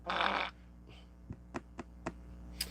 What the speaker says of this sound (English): He's really working the fart button tonight.